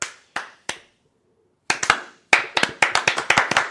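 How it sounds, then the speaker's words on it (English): A few slow, separate hand claps, then a pause, then a faster run of sharp, close claps alone without talk, mocking a slow clap for a retiring Argentinian basketball player. "Hold on. Slow clap."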